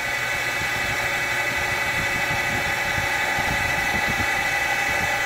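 Surface grinder wheel grinding aluminum held on magnetic parallels, a steady, loud mechanical whir with rough grinding texture that runs unbroken throughout, with no voices.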